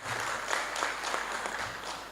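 Audience clapping for a panel speaker at an employment forum, a continuous wash of many hands at moderate distance, steady through the whole short stretch.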